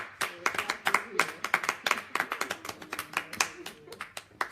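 A small audience at a birthday celebration claps, with loose, uneven bursts of hand claps repeating quickly and closely, while voices murmur underneath.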